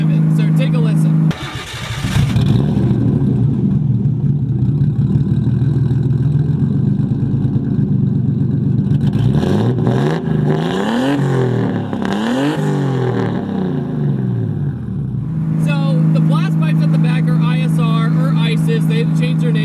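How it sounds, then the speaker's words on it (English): Nissan 240sx with a 440 hp RB20 engine and a 58mm Precision turbo, idling steadily before a series of sharp rising and falling revs in the middle, then settling back to a steady idle. "You put a bigger turbo on it. It's a 58mm turbo by Precision, and it's an incredibly smooth power band"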